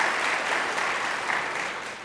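An audience claps steadily and loudly throughout a 2014 senior awards ceremony at the Early College of Forsyth, a dense, even wash of applause from a crowd in a hall.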